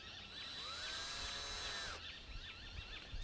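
Electric drill driving a Mark 3 Flow Hive honey pump outdoors during a field test, a steady high whine that rises in pitch and then cuts off around the two-second mark, leaving a rougher, uneven mechanical rattle.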